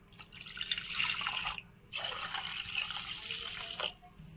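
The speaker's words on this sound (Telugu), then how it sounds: "ఇప్పుడు మనం నీళ్ళు పోసుకుందాం." Water is poured into creamy whipped curd in a village kitchen, giving two close, quiet stretches of splashing, trickling liquid separated by a short pause, with no talk.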